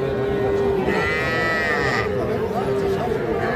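Young bull calves at a busy Mymensingh cattle market give a drawn-out moo amid loud crowd chatter and other livestock calls nearby.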